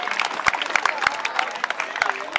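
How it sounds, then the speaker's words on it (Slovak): Crowd applause at a youth football tournament award ceremony, the ŠK Novohrad CUP 2016, steady dense clapping with a few sharp louder claps, close and alone with no talk over it. "Takisto veľký potlesk poprosíme."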